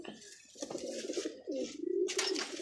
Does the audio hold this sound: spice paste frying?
no